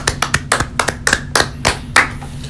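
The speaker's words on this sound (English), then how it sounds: "let's just give him a round of applause" About a dozen separate claps ring out close and loud in an uneven rhythm from a single person, spaced at irregular intervals over a few seconds, with a low hum beneath.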